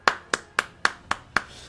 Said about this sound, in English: So we're gonna clap.